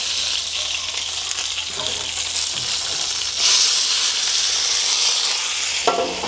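Gyoza sizzle and fry loudly in a hot pan after a splash of water, a steady close hiss that swells sharply midway as steam bursts up.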